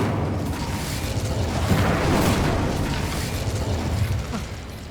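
The Incendio fire spell cast in Hogwarts Legacy: a sustained, roaring burst of flame that swells loudly in the middle and then holds as a dense rushing crackle. No one talks over it.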